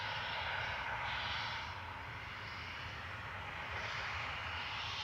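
A Ryanair airliner registered 9H-QAU departs Manchester Airport for Naples, a distant jet roar that swells, eases slightly, then builds again, with a deep rumble underneath and no speech.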